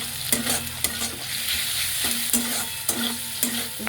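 Pasta is fried lightly in butter in a pan, with a steady sizzle under repeated scraping stir strokes that come roughly every half second, close and clear.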